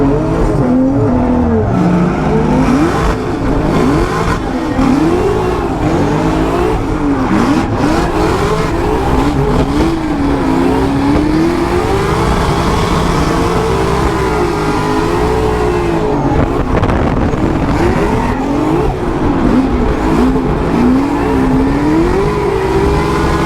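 Drift cars rev hard and slide around a track in a drift battle, engines wailing up and down through the gears with tyre squeal, loud and close for the whole stretch.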